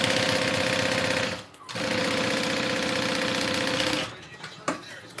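Sewing machine stitching the bottom onto a fabric bag, a steady loud mechanical whirring hum running for over a second, briefly pausing, then continuing for a couple more seconds before stopping amid quieter handling noise.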